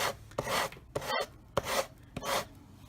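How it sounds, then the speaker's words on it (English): Rhythmic rasping strokes of sandpaper rubbing paper off an edge, about five scratchy back-and-forth passes with brief pauses between, close and fairly quiet. "is just sanding the paper off"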